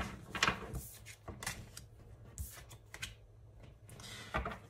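Quiet riffling and soft slaps of tarot cards being shuffled, in irregular bursts, close by with no voices.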